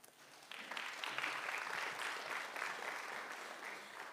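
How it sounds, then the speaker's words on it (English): An audience at a national schools moot court final breaks into applause, starting after a brief pause and swelling into sustained, even clapping that carries on softly throughout. "A round of applause, please."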